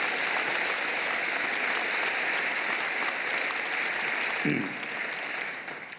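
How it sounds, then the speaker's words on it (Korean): A church congregation gives the Galilee choir and orchestra a long, even round of applause, many hands clapping steadily at close range before the sound eases slightly near the end. "여러분 큰 박수로 다시 한번 감사를 표하십시오"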